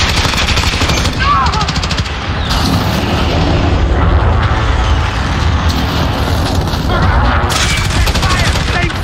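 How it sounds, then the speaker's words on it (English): Loud, continuous gunfire and booming explosions from a Call of Duty Modern Warfare team deathmatch, with a grenade blast amid dense automatic weapon fire and shouted voices. "Grenade!"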